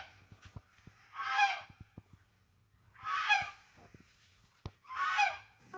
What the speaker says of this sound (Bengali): এখানে হাঁস খেলা করছে পুকুরে